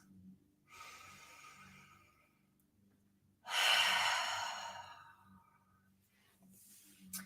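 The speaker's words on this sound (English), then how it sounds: "So let's take 3 breaths." Deep breaths during a guided meditation: two slow, close exhalations, the second a long, loud sigh, with soft breathing between them.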